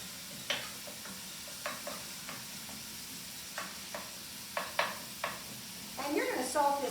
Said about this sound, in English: My fire's hot enough that it's cooking very quickly.